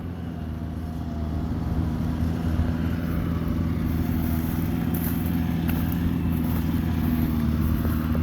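A farm machine engine running steadily in a field being prepared, with a low, constant drone, close by and unchanging, with no talking.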